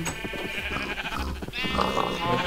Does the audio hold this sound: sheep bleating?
yes